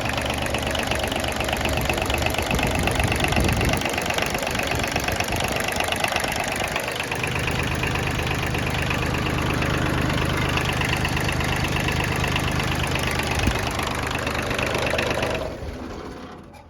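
A Kubota L2201DT 4WD tractor's diesel engine idles close by with a loud, steady, knocking rumble that drops away near the end.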